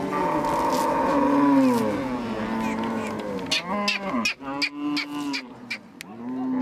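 Dinka cattle in southern Sudan low repeatedly, several deep overlapping moos from close by, with other animal calls and brief sharp sounds mixed in toward the end.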